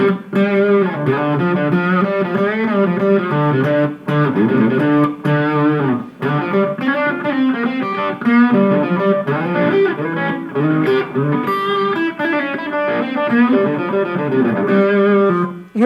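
An electric guitar played through a straight drive effect, with a steady stream of distorted chords and melodic lines in a country hybrid-picking style, loud and close and with no speech.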